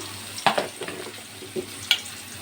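Onions fry in a pan for taro leaf curry, a soft continuous sizzle with a few sharp spoon taps and scrapes against the pan, close up, no voices.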